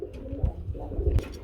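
Racing pigeons at a fancy pigeon market coo in low, soft, throaty bursts, two or three short rounds close by with faint background bustle and no talking.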